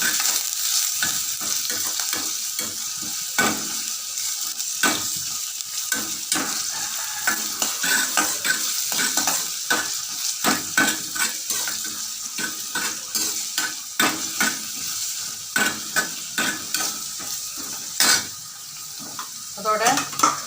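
Paneer and capsicum frying lightly in a pan for a spicy paneer gravy, a steady close sizzle broken by frequent sharp scrapes and clinks of a spoon stirring against the metal, with no talking.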